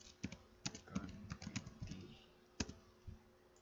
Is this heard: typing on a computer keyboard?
yes